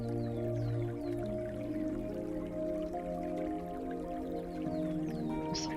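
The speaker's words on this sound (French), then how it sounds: "Concentrez-vous sur le bruit de l'eau." Steady flowing river water with a continuous watery babble, small drips and splashes over a constant background wash, fairly close.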